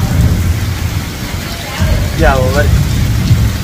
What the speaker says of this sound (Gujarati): અટાણે હવે ધોધમાર વરસે છે જો ભેગો પવન હે ને ગાજ ને વીજ ને પવન